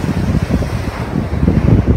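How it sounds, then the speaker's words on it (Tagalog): Large ocean waves break on a Zambales shore, a loud, continuous low rumble of surf mixed with heavy wind buffeting the microphone, with no voices. "malaki yung alon, no?"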